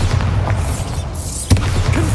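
Bombarda blasting spell going off in Hogwarts Legacy: a sustained rumbling, low-heavy roar with a sharper thump around midway, loud and close throughout.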